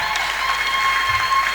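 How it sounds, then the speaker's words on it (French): A short burst of steady clapping from a gospel gathering, fairly close and even, with no clear voices over it. "La manière que tu applaudis prophétise."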